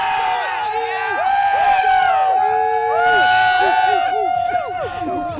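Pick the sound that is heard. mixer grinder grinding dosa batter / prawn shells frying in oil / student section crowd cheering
student section crowd cheering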